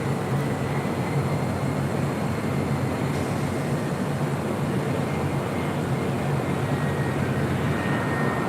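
Distant Boeing 747 airliner arriving from Frankfurt on approach at LAX, a steady broad jet roar that holds evenly throughout with no talking.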